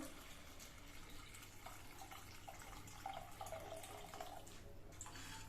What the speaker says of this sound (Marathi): आता त्यामध्ये गरम पाणी घालायचं आहे